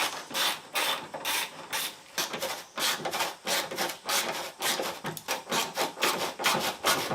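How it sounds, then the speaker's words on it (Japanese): Wing screws are being unscrewed on a Mazda RX-7 FD3S, producing a rhythmic, close-up ratcheting scrape of quick repeated strokes that runs steadily throughout. "ウイングのネジ外します"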